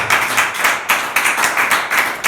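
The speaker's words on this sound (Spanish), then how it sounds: "Ese aplauso sea para Jesucristo." Steady, enthusiastic applause from a crowd, continuous hand clapping with rhythmic surges, loud and close.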